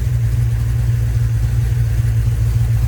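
A Mopar 318 V8 idles right after its first start-up, a loud, steady low rumble with an even pulsing beat close by, no voices.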